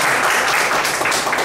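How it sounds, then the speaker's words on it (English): A meeting audience gives a round of applause, a continuous rush of many hands clapping together at a full, steady level. "Let's have a round of applause for her."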